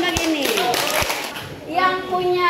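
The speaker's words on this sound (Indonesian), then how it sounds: "Tepuk tangan untuk kelompok ini" A classroom of children claps for a group in a short, lively burst of close applause that briefly thins, with a voice and an adult speaking over and after the clapping.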